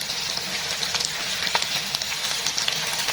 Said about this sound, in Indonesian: Ini kita goreng aja tempenya sampai kecoklatan, tapi jangan sampai kering